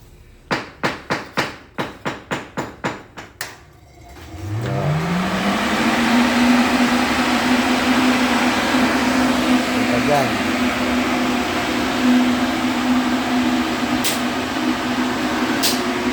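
Several sharp knocks, then an air blower starts up and settles into a loud, steady whooshing roar with a constant tone.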